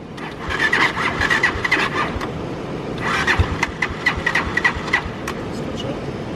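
A cheap project motorbike, in need of a new battery, runs on its first ride, its engine revving up and easing off in rough surges, with people talking close by.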